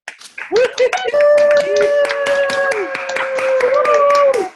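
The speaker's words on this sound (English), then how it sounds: "we are all going to give applause wildly" Participants on a conference call clap together after a countdown, a dense patter of hand claps close and loud, with a sustained tone and some chatter running underneath for several seconds.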